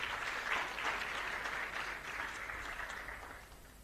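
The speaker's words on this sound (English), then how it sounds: "So Harira and K15, if we can again clap for them" Steady applause from a conference audience fills the whole stretch, dense and even without any talk, as people at an impact report launch event clap for presenters.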